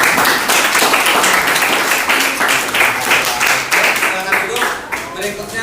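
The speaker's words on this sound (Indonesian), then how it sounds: "silakan beri aplaus untuk kelompok" Sustained audience applause for a student group in a classroom presentation, dense continuous clapping from many hands, loud and close, tapering slightly at the end with voices mixed in.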